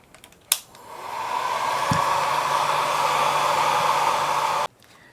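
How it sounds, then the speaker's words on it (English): Hair dryer on a low setting drying grout on a mosaic button bowl, switching on with a click and blowing as a steady, even whoosh with a faint hum for about four seconds, then cutting off abruptly. "I'm going to put the hairdryer on it just for a few minutes"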